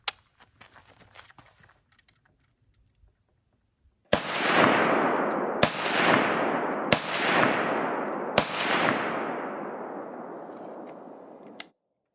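A .308 FAL battle rifle fires four loud, sharp shots roughly a second apart outdoors, each followed by a long rolling echo, after a few quiet handling clicks.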